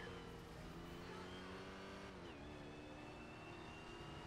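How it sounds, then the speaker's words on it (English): A fast car engine roars past in the Euro Truck Simulator 2 driving game, its revving drone loud and continuous with a pitch shift midway as it goes by. "this car is really fast"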